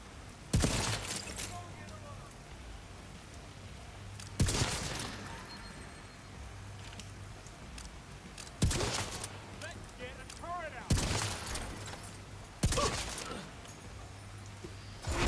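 Turrets in a video game fire at each other, sending out sharp, loud shots at regular intervals over a quieter hum, with scattered clattering and glass-like breaking between the shots.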